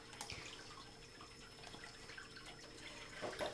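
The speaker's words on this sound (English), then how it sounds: "So first we just siphon out the water as usual." Water siphoned from a small aquarium drips and trickles softly and continuously, with a few small splashes near the end, without talk.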